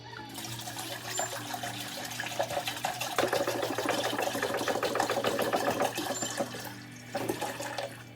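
Water is poured into a pot on the stove while a vegan soul food dish is being cooked, giving a steady splashing trickle with some bubbling that swells midway and continues under a low hum.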